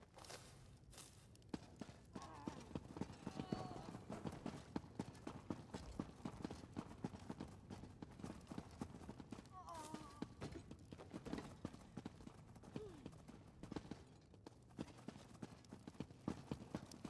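Steady rhythmic clip-clop of horse hooves in Elder Scrolls Online, a continuous run of even hoofbeats that persists through the whole stretch at moderate, fairly quiet level, with a couple of faint breathy snorts.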